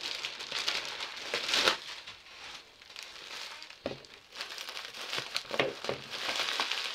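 A sealed Ziploc plastic bag handled up close, giving irregular crinkling and rustling with a few sharper crackles, fairly loud and continuous.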